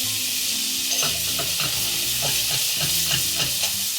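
Butter sizzles and fries steadily in a hot pan alongside a rosemary rack of lamb, with repeated stirring and scraping taps over the constant crackle, close up and with no one talking.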